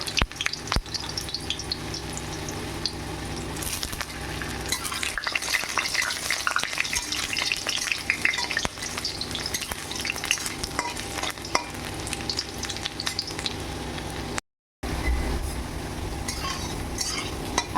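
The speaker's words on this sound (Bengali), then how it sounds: "এই যে আলুর টুকরোগুলো আমি ভেজে নেব।" Potato pieces fry in hot oil in a pan with a continuous close sizzle. Occasional stirring and scraping of a utensil against the pan break through it.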